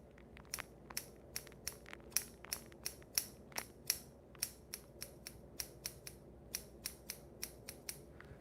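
Thinning shears snip through hair during a crew-cut self-haircut fade, a steady run of about twenty crisp, close metallic cuts in an even rhythm with no talking.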